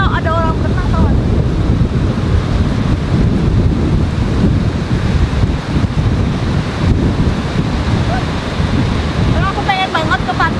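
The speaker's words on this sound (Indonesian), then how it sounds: "Maaf, ombaknya tuh gede banget." Big ocean waves and strong wind batter a beach, a continuous loud roar of surf and wind buffeting the microphone with no letup, while a faint voice is briefly heard at the start and end.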